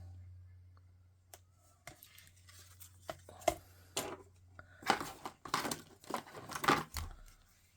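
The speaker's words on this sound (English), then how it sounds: "I use certain scissors for cutting sticky stuff because they work well for that" Several crisp snips and crinkly cuts of scissors through sticky paper, quiet at first and then louder in quick bursts near the end.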